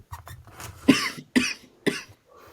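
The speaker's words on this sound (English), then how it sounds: "I can't wait for this cough to go away" A person coughs in a few sharp, close bursts, spaced roughly half a second apart, with faint murmuring beforehand and a quiet room otherwise.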